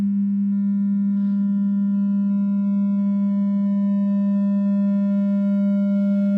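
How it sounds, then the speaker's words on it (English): A steady sine test tone at constant pitch is pushed up in level into distortion, adding a stack of upper harmonics that give a buzzy, edged quality, sustained and alone. "as I increase level into this distortion stage, we see that we're introducing upper partials, we're changing the wave shape as it gets more and more distorted"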